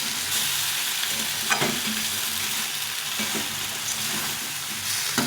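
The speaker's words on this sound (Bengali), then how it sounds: "এইভাবে ভালো করে কষিয়ে নিতে হবে" Vegetables, spices and tomato are stir-fried for a fish curry; a dense, even sizzle runs throughout, with occasional clicks and scrapes of a spoon stirring the pan.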